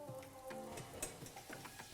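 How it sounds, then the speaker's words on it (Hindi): Paneer slowly roasting in a pan over a low flame, giving a soft, steady sizzle with scattered small ticks and pops, moderately quiet and close, with no voices. "मस्त भुनाई हो रही है, धीमी आंच पे धीरे धीरे।"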